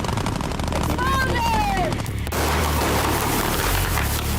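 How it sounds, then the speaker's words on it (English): Gunfire from a Stranger Things battle scene staged outdoors at night with explosions, heard as a dense, loud burst of rapid shots layered with booms and a rising whine. "with gunfire."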